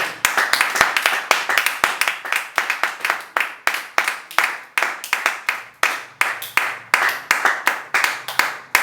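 A church congregation at a Sunday service claps in steady, rapid unison, loud and close, to acclaim the word of God, with faint voices underneath.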